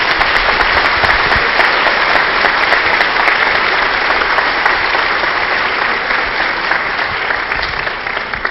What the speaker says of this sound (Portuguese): Peço então uma salva de palmas ao Flávio Gicovati.